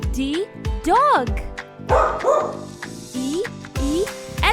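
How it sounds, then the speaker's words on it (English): A dog gives a string of short yips and barks, close and fairly loud, with a brief whimpering note among them and no talk. "D, dog."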